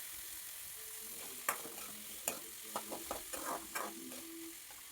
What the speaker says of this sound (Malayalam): എല്ലാം ഒരു 2-3 മിനിറ്റ് നേരം ഒന്ന് വാടി വരുന്നത് വരെ ഒന്ന് വഴറ്റിയെടുക്കാം.